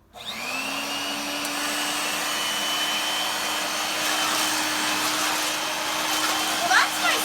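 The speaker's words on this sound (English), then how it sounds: "this is part 2 with the Dirt Devil stick vac. Let's turn it on and see how it runs." A Dirt Devil stick vacuum cleaner starts up and runs. Its steady motor whine with a high-pitched tone holds loud and close for several seconds after a brief start-up.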